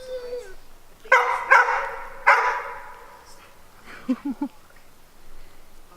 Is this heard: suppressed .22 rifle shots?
no